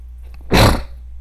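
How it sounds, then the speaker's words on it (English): One sudden, loud, explosive sneeze that roars briefly and trails off after about a third of a second, heard close over a low background hum with no talk. "Some people say I sound like an elephant when I sneeze."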